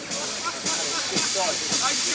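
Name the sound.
steam train hissing as it moves forward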